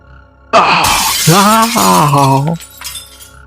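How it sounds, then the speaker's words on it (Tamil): A small glass ball is thrown and shatters with a loud, close crash, followed by tinkling fragments and a wavering tonal swell. "வந்தவர்கள் ஒரு சிறு கண்ணாடி பந்தை தூக்கி எறிந்தனர்."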